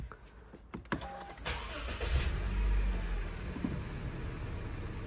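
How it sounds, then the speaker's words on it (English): A 2012 Honda CR-V engine cranks and catches after a few clicks, then settles into a steady, smooth idle, recorded close by with no talk. "press the brake, start the car."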